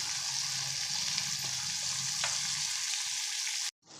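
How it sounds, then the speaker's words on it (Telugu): Bitter gourds fry in a pan over a medium flame, giving a steady, close sizzling hiss that holds throughout before cutting off briefly at the end. "ఫస్ట్ ఆఫ్ ఆల్ మీడియం ఫ్లేమ్లో పెట్టుకొని దోరగా వేయించుకోవాలి వీటిని"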